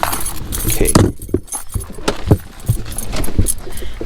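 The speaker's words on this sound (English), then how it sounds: "Where are the keys at? I can put them in my pockets." Keys jangle and clink close by for a few seconds, a steady metallic rattle, while a voice briefly says a word over it.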